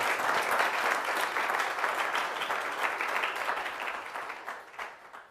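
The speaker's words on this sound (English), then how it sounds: "So another round of applause for our panelists and our moderator." A sustained round of audience applause for panelists and a moderator at an Empire Club of Canada event on the housing market, dense clapping from a crowd that slowly thins and fades.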